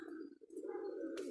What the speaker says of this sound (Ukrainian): А ні, це голубочка, кремачечка.